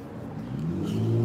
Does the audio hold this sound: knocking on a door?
no